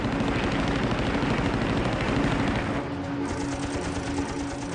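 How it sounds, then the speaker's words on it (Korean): A Japanese Betty bomber's rear gunner fires a machine gun at a pursuing Marine fighter over Guadalcanal in WWII, a steady loud rapid rattle of gunfire mixed with roaring aircraft engines throughout, with no voices. "벨의 후방 사수가 수에스에게 총격을 가했다"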